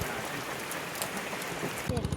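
Steady patter of rain falling on a surface, a dense hiss throughout, with a brief voice-like murmur near the end.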